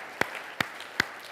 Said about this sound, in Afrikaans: Gee julle self 'n lekker hande klap vanmôre.